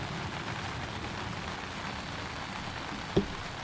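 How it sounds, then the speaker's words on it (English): Rain falls steadily at an outdoor beep baseball championship game, a constant dense patter with one brief thump near the end. "The plane and the rain, lots of noise."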